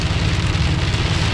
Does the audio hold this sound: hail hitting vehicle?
yes